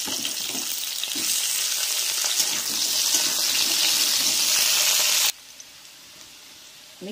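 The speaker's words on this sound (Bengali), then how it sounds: "আমার তেলটা গরম হয়েছে, ওর মধ্যে আলু দেব। এগুলো আগে ভেজে নেব। ওর মধ্যে এবার কুমড়োগুলোকেও দিয়ে দেব।" Potatoes and pumpkin pieces fry in hot oil, giving a loud, steady hiss and sizzle, then the sound cuts off abruptly, leaving faint background noise.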